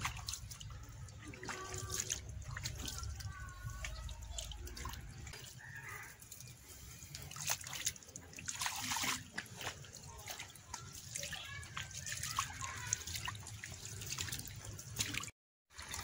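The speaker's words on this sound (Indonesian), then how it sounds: "Jadi kan ngalir ya, airnya tuh ngalir tuh." Water trickles and drips steadily through a tubifex worm culture setup, a faint, continuous flowing sound with small splashes and a soft background hiss.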